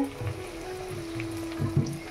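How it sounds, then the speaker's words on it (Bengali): Food frying in oil one piece at a time, a low, fairly quiet sizzle and bubbling with a few soft clatters. "আপাতত একটা করে ভাজা হবে"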